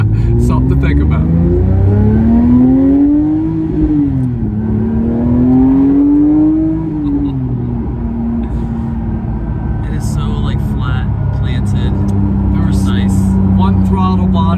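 A Porsche 911 GT3's naturally aspirated six-cylinder engine, with a throttle body per cylinder, revs up and down loudly in rising and falling sweeps, settling into a steady drone, with voices talking over it.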